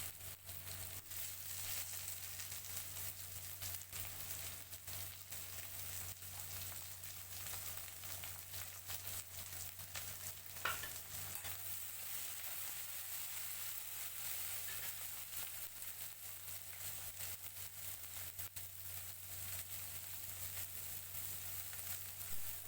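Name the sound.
green chillies frying with onion and garlic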